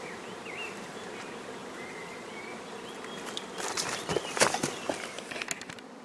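A dense hum of many honey bees buzzing close by at a hive during a sugar syrup feeding test, swelling louder toward the end with scattered clicks and knocks.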